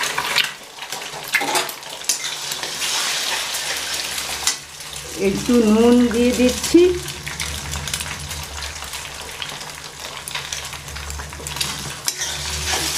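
Eggs frying and being stirred in a pan for homemade non-veg chowmein, a steady sizzle with scraping stir strokes and a brief clink of utensils, while someone speaks briefly over the cooking.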